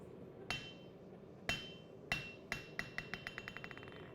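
A hammer strikes metal on an anvil while a W2 steel chef's knife is forged: several spaced, ringing blows, then a fast run of rebounding taps that quicken and fade, close and fairly quiet.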